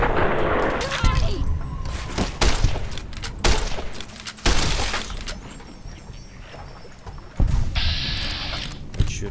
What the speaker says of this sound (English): Let's shoot this one in head two.